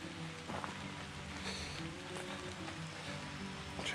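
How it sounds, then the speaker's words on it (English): Steady rain patters on tree branches and leaves in a dark forest in the Ozarks, a dense continuous hiss with scattered nearby drips, close and even throughout with no talking. "You guys hear the rain in the rain in the branches, the rain in the leaves."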